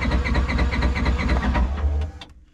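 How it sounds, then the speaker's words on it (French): A Polaris RZR side-by-side engine cranks on its starter with a steady, rhythmic churning for about two seconds, then cuts off abruptly into near silence. "Alors, Thierry, t'es prêt à entendre le moteur?"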